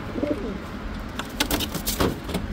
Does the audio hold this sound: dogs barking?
no